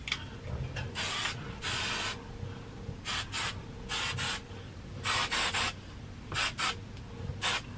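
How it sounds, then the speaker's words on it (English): Tresemme hairspray sprayed onto curly hair in a series of close aerosol hisses, some long and some short bursts, separated by quiet pauses, with no talking. "This is just Tresemme hairspray."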